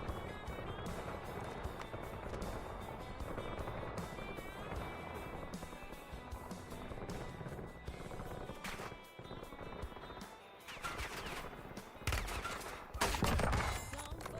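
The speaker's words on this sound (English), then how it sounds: "Stop shooting at me." Gunfire in a Warzone battle royale match, with dense, loud, continuous volleys mixed with engine and helicopter-like noise and several heavier bursts near the end.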